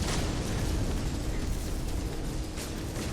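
A continuous, roaring explosion rumble from the No Man's Sky video game, loud and broadband, sustained for a few seconds with no clear individual blasts or voices over it.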